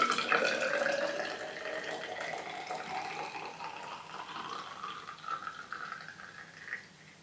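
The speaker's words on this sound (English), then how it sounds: "I'm going to fill it up to the 100 millilitre mark." Tap water runs into a container, filling it to the 100 millilitre mark while yeast slurry is being diluted for home brewing; a steady close stream whose pitch rises as the vessel fills, then stops abruptly, with no talk.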